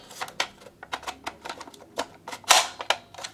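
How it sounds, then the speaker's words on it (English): An AR-15 magazine being handled and clicked into a Caldwell Tac-30 magazine charger, producing a series of sharp, close plastic and metal clicks and rattles in irregular rhythm, with one louder snap near the end. "it said there should be an audible click, just like inserting a magazine into a rifle"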